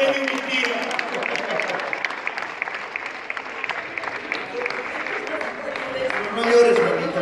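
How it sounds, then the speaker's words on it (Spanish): Crowd applauding at a Bolivian celebration with a sicuri panpipe group, sustained clapping mixed with lively crowd voices and people talking nearby, swelling slightly toward the end. "Un fuerte aplauso para la señora."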